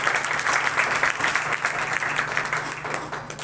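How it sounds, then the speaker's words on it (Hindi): A worshipping church congregation claps for Jesus, steady moderate applause throughout over a faint low hum, fading slightly at the end. "आइए फिर यीशु की जोरदार तालियां"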